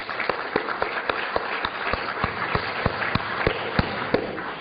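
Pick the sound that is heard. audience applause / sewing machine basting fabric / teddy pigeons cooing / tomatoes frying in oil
audience applause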